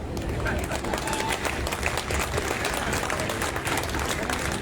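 An audience at a Holi celebration gathering breaks into steady, dense applause, a continuous wash of many hands clapping with a crowd murmur beneath, heard from within the hall.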